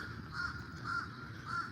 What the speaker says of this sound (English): You get to hear the birds